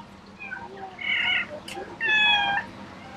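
A Van cat meows twice, a short plaintive call followed by a longer, louder drawn-out one, close by over faint background noise.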